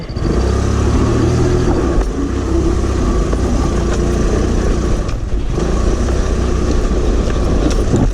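Honda Africa Twin motorcycle ridden off-road, its engine droning loud and steady throughout with continuous rumble and road noise, no talking.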